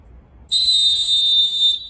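A survival whistle gives a single loud, piercing, steady blast lasting just over a second. It starts abruptly after a quiet moment and is heard alone.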